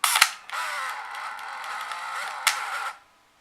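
A Canon AF35M II Autoboy film camera whirs steadily for about two and a half seconds as the shutter button is pressed, bracketed by sharp mechanical clicks at the start and end, close up with no talking.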